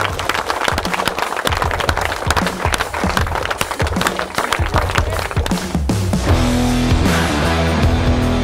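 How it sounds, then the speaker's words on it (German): A crowd at an outdoor moped meet and flea market claps loudly and steadily for one person, dense applause running throughout with engine or music tones rising underneath toward the end. "Auch mal noch einen richtig grossen Applaus für den Dani,"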